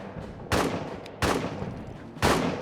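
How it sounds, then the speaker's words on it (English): Three loud, sharp gunshots in a WWI trench warfare video game, spaced irregularly about a second apart with a steady background rumble between them. "Let's get the bullets flying"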